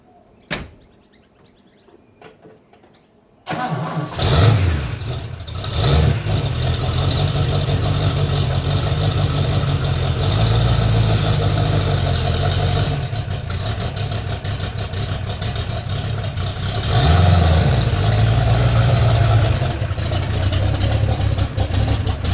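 Stallion car in a shed: after a few seconds of near quiet and small clicks, the engine catches abruptly and settles into a loud, steady, close idle that holds to the end.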